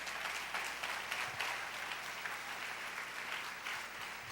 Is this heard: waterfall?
no